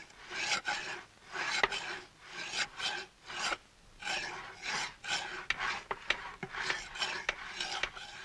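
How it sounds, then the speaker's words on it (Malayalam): A chisel is sharpened by hand, and the rhythmic rasping strokes repeat steadily about once a second. The sound is close and moderately loud, and no one talks over it. "ഈ ഉളി തേക്കാൻ തുടങ്ങിയിട്ട് നേരം എത്രയായെന്നാ ഞാൻ ചോദിച്ചത്."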